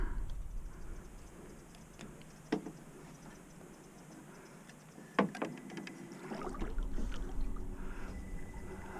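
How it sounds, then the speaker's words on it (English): A small homemade duck boat moving slowly under a 45-year-old outboard motor, giving a steady low drone with water wash and a couple of sharp knocks, heard alone at moderate distance. "let's see how she works with this little 45-year-old motor."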